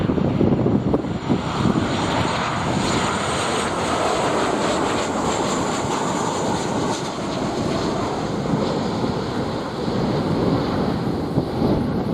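A Southwest Boeing 737-800 departs Montego Bay airport in Jamaica, its jet engines producing a loud, broad, sustained roar that holds steady and close throughout, with no voices.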